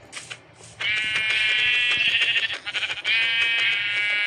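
A synthetic-sounding Minecraft sheep bleats loudly and steadily for a few seconds, wavering in pitch, with faint clicks and taps around it.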